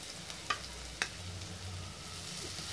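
Puffed rice being stirred into fried onions in a pan, a soft continuous crackle with two sharp spoon knocks on the pan early on, fairly quiet and close.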